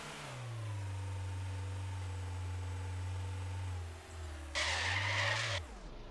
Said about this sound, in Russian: Я научился тормозить экстренно.